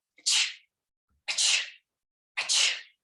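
Three forceful sneezes imitated by a voice, each a sharp hissy burst, evenly spaced about a second apart with silence between.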